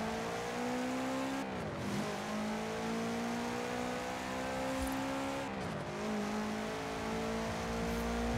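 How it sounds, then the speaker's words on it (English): A Subaru Impreza WRX STI rally car in Forza Horizon 4 drives on with its engine droning loud and steady, the pitch climbing through the gears and dipping sharply at two shifts, with no talking. "The car that I use for that is the Subaru Impreza WRX STI."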